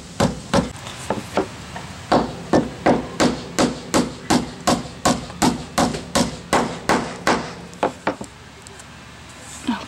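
Galvanized flat-head exterior nails driven by hammer into a DIY wooden barn door: around twenty sharp, ringing blows in a steady rhythm, close and loud, ending in a short pause and one final strike.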